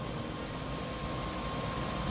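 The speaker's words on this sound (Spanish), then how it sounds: "Vaya helicóptero." Helicopter flying in the video game Prey, a steady broadband rotor and engine drone held at an even, moderate level with no voices over it.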